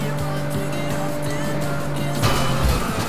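Cars drive along a road in the Test Drive Unlimited racing game, with a steady engine hum and a passing vehicle swelling louder near the end.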